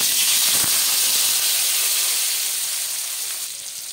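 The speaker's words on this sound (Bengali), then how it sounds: "তেলটা দিয়ে আমি আলুটাকে ভেজে নেব" Boiled potatoes fry in mustard oil in a hot kadai, producing a loud, dense steamy hiss that fades slightly toward the end, with no speech.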